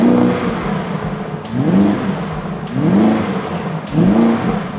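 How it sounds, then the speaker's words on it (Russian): An Audi RS Q8 R crossover with an ABT exhaust system revs hard three times in succession, each loud, close rise in engine pitch dropping back to a steady idle between blips. "выхлопная система здесь стоит именно от APT для Audi"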